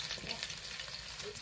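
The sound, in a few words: chopped onion frying in mustard oil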